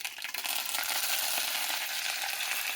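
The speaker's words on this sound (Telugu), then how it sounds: "పోపు పెడుతున్నాను ఇప్పుడు నెయ్యిలో. జీడిపప్పు, 2 మిరపకాయలు, పచ్చిమిరపకాయలు," Cashews, red and green chillies and curry leaves frying in hot ghee for a tempering, a dense steady sizzle with crackling spatters, close and continuous throughout.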